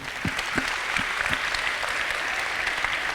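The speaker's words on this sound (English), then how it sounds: "So everybody give yourselves a round of applause." A crowd claps together in a steady, dense round of applause, with a few louder individual claps near the start.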